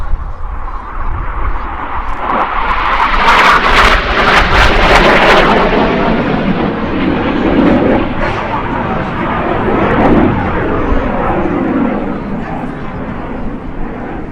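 An F-86 Sabre jet powered by a General Electric engine flies a display at the Midlands Air Festival, its loud, broad roar swelling and holding steady beneath continuous commentary from a public address voice.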